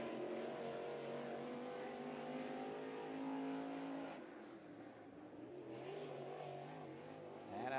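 Crate late model race car running a qualifying lap on an oval, its engine a loud sustained roar with rising and falling harmonics as it powers through the turns, close and continuous with no talk.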